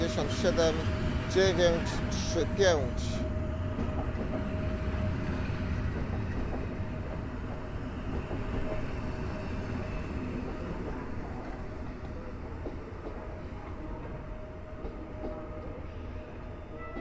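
An EN57 electric multiple unit passenger train passing at Warszawa Zachodnia station, its wheel and rail rumble loud at first with sharp clanks, then fading steadily into a distant hum.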